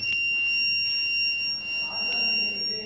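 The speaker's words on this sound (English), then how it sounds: "Now you can see the LED is glowing and the buzzer is ringing." A thermistor fire alarm circuit's buzzer rings as a steady, loud, high-pitched electronic tone that holds throughout, with faint voice in the background.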